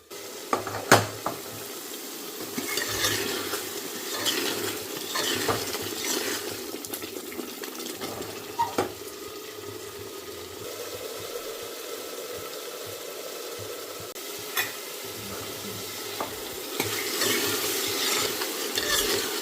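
Masala and peas sautéing in a pan, giving a soft sizzle throughout, with repeated spoon scrapes and scattered clinks from the stirring.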